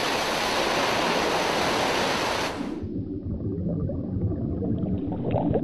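Energetic ocean waves on the Southern Australian coastline make a loud, broad rushing surf for over two seconds, then cut to a lower, rumbling wash of water that continues to the end.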